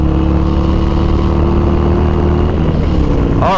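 An engine held at high revs gives a loud, steady drone with a strong low hum, then shifts and climbs near the end of a few seconds.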